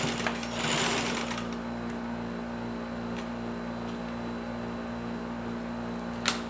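Domestic sewing machine backstitching while sewing a placemat, a steady close mechanical whir with a regular stitching pulse and a few slight shifts in pace.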